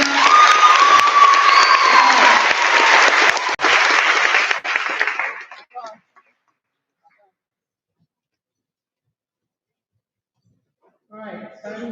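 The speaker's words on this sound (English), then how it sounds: "Another round of applause for our speakers." An audience claps and cheers for the speakers at a magnet academy promotion ceremony, dense applause with shouts for about five seconds before fading to silence, then a voice begins faintly near the end.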